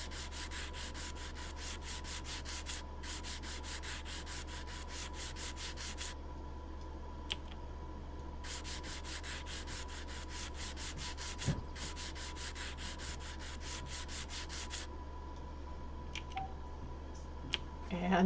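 Sandpaper rubs in bursts of quick back-and-forth strokes against model railroad rails, quiet and close, with a steady hum underneath and pauses between passes.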